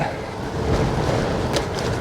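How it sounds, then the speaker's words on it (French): An autumn headwind buffets a cyclist on a green way between Castres and Mazamet, a loud, steady gusting rush of wind noise filling the whole moment. "aujourd'hui c'est vent d'automne et le vent je l'ai en face"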